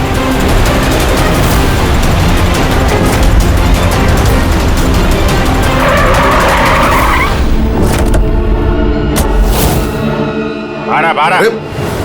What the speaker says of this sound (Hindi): वो रही कार।